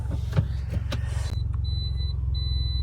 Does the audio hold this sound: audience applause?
no